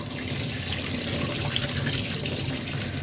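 Cut pangas fish gets rinsed under a running tap, a continuous close rush of water splashing into a sink with no pauses.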